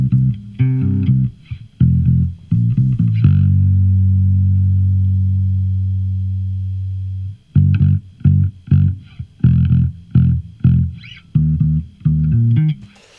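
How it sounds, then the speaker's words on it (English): A DI electric bass played through a Classic Comp compressor preset: loud, close plucked notes in a rhythmic pattern, with one long sustained note ringing out and decaying before quick staccato notes resume. "this one, Classic Comp, sounds pretty nice for the bass"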